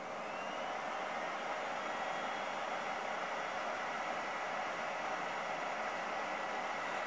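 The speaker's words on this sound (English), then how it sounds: "You can hear the cooling fans now on the Anker unit here." Cooling fans whirring inside an Anker Powerhouse 767 portable power station while it powers a heat gun; a steady, fairly quiet broadband whoosh that holds unchanged with no talk.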